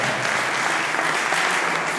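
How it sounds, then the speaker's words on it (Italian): Audience applause at an Italian presentation evening, a dense, steady wash of many hands clapping throughout, loud and close with no talk over it. "Facciamo un applauso più forte in maniera che lo possa sentire"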